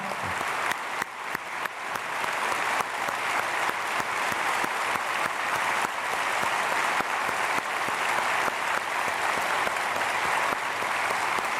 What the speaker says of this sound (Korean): 우리 박수로 인사드리겠습니다.